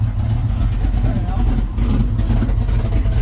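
A 1967 Chevrolet Malibu Super Sport clone with a solenoid exhaust cutout opened, its engine rumbling with a deep, throaty idle and revs, close and loud.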